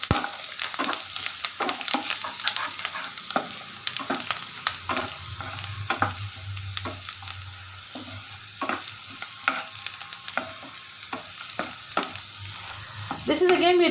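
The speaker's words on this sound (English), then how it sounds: "the chili and the ginger, the garlic and the ginger. Let it saute a bit." Chili, garlic and ginger sauté in a hot pan, giving a steady close sizzle with frequent sharp stirring clicks and scrapes throughout, and no talking.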